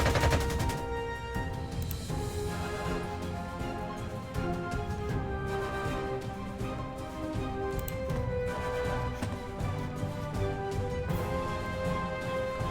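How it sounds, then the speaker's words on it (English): Sustained machine-gun fire and explosions in the World War II strategy game Panzer Corps 2 as aircraft make a strafing run, dense and continuous at moderate loudness, with no talking. "Might as well go for a strafing run."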